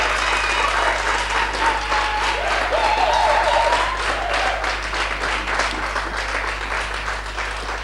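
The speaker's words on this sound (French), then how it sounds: "On applaudit très fort." Strong, steady applause from an audience at a Cameroonian gospel music show, dense clapping that holds loud for the full eight seconds over a constant low electrical hum.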